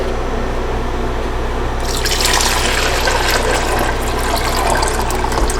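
Water pours steadily into a thermal coffee maker, a model CM2046S under repair, starting as a low hum and swelling into a loud, continuous splashing fill after a couple of seconds, with no talking.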